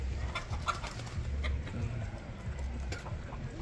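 Chickens on a farm in Colonia Suiza, a rooster and hen, giving soft scattered clucks at moderate distance over steady outdoor background noise.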